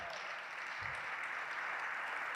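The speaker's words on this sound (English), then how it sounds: "let's give a round of applause to our catering crew for tonight's dinner" A banquet audience at a high school hall of fame dinner applauds the catering crew, a dense, continuous patter of many hands clapping that holds at an even level throughout.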